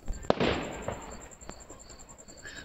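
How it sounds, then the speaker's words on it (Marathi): Firecrackers going off outdoors nearby: a couple of sharp loud bangs followed by scattered fainter pops and crackles fading over a couple of seconds. "कोणतरी फटाके वाजवते"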